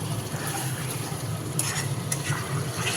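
Meat sautéing in a pan for a Bengali curry, a steady close frying sizzle with a low hum and a couple of faint utensil scrapes.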